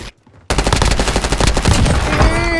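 A paintball gun firing paint rounds in Call of Duty Warzone lets off a rapid, loud burst of automatic shots after a short quiet moment, the rattling fire continuing steadily to the end.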